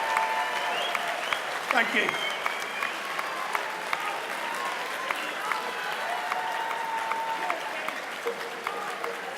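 Sustained applause fills a room at a charity boxing fight night, dense and steady throughout, with a brief spoken thanks near the start and scattered crowd noise.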